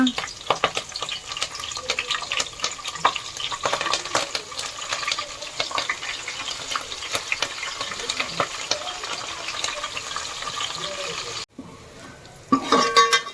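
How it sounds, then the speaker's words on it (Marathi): Cumin, mustard seeds, crushed garlic and curry leaves crackle and sizzle in hot oil for a tempering, a steady close frying hiss with sharp pops, briefly quieting near the end before sizzling again. "जिरं मोहरं चांगले तडतडल्यानंतर ठेचलेला लसूण"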